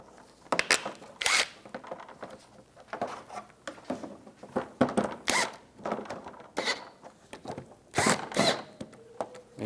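Bolts are threaded and tightened on a fog light hole cover of a 2004-2009 Toyota Prius, a close series of irregular ratcheting bursts and scraping clicks with short pauses between.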